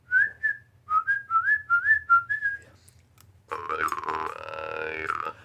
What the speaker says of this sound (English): Let's see if I was whistling a tune there at the end.